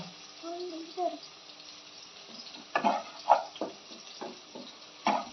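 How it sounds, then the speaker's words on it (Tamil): Tomatoes sauté in a pan for a Tamil-style chicken kuzhambu, soft sizzling under a thin, muffled background with a few sharper bursts of stirring and spitting, while someone talks at the start. "நல்லா இது இது நல்லா வதங்கிட்டு இருக்கு தக்காளி எல்லாம் நல்லா வதங்கிட்டு இருக்கு"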